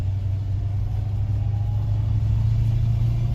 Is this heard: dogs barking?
no